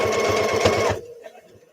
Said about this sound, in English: right now I'm sewing on my pockets.